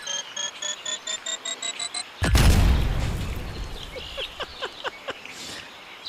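A loud, sudden explosion in the video game Squirrel with a Gun blows up a wedding party, erupting after a run of short repeated game tones and fading into a long rumbling tail with scattered crackles and pops.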